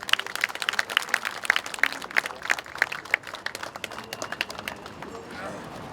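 At a Sewol ferry disaster gathering, an audience welcomes a speaker with clapping, a run of sharp, closely spaced claps in a steady rhythm that thins out and fades toward the end, with voices around it.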